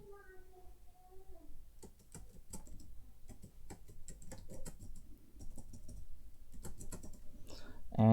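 Someone types on a computer keyboard in a quick, irregular run of light clicks. The keystrokes are close and fairly soft against a quiet room, and a faint voice is heard near the start.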